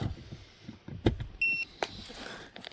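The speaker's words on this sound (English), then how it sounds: "You'll see the light on and it beeps." A D200 OBD diagnostic reader beeps as it connects to a car, giving a short steady electronic tone after faint handling clicks and knocks in a quiet space.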